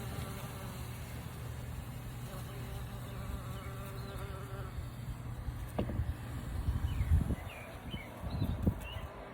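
Low, steady buzzing of bumblebees close up in a Natupol Excel hive, with rustling and brief knocks rising toward the end.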